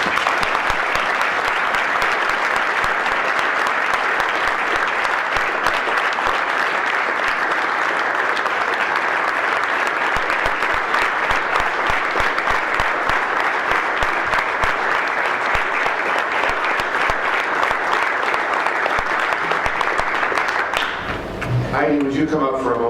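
Sustained applause from a large dinner audience honoring an outgoing Southern California PGA section president, dense and steady for about twenty seconds before tapering off at the very end.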